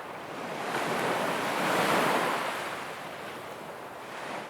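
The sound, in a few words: gentle ocean waves on the shore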